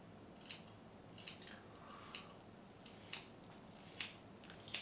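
Scissors snip hair during a self-haircut at home, about six crisp, close cuts spaced roughly a second apart over a quiet room background.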